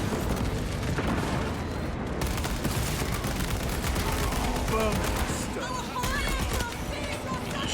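Chaotic battle din in Warhammer 40K: Space Marine 2, with a frag grenade blast buried in dense continuous gunfire and booms, voices calling out over the noise.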